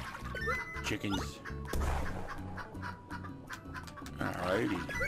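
Chickens in the video game Turnip Boy Commits Tax Evasion cluck in short bursts over game music and sound effects, with a heavy thud partway through, and no voice on top.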